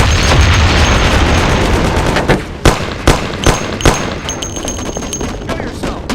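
Gunfire in Mafia: The City of Lost Heaven, a dense loud burst at first, then a string of separate sharp shots about every half second, each with a short echoing tail.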